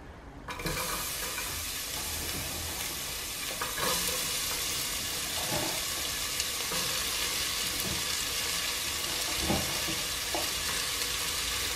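Onion sizzling in hot oil in a pan, a steady bright frying hiss with occasional soft crackles and stirring sounds throughout.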